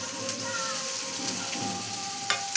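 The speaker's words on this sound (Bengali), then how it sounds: "কড়াই গরম হয়ে গেছে, এবারে রাইসের সবজিগুলো সব ভেজে নেবো" Mixed vegetables for fried rice sizzle in a hot wok with a little cinnamon, a constant dense crackle with brief stirring scrapes and no one talking.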